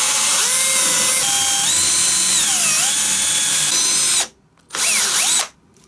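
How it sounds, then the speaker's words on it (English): A power drill whines loudly and steadily, its pitch sliding down and up as it bites into the wood of a violin while boring the end pin hole, then stops briefly and revs again. "drill the hole for the end pin"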